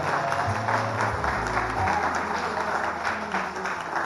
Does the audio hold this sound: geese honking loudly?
no